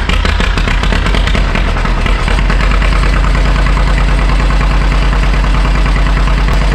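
A 1948 John Deere B tractor engine cranks over, then settles into a loud, steady, throbbing idle close by with a deep low rumble and rhythmic pulsing; no talking.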